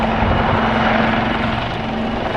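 A helicopter flies overhead, a loud, continuous rotor and engine drone with a steady low hum, filling the whole moment without speech.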